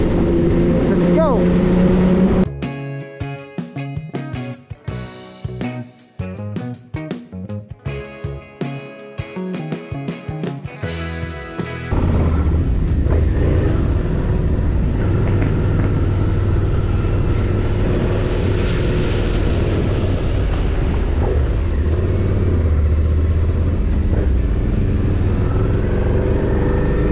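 A Suzuki SV650 motorcycle rides the Sampaloc twisties toward Tagaytay. Its engine note rises and falls for several seconds, then gives way to steady rushing wind roar.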